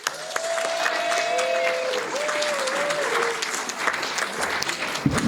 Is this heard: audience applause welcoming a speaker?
yes